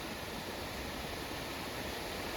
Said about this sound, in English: I found this stupid waterfall by accident.